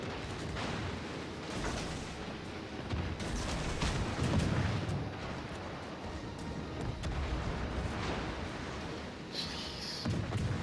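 Premium battleship Anhalt firing a full broadside in World of Warships Legends, a dense, continuous rumble of heavy gunfire and booming blasts that keeps up without a break over the whole stretch.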